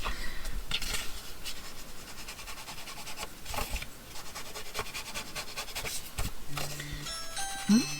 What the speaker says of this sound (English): ringing the doorbell as he leaves the house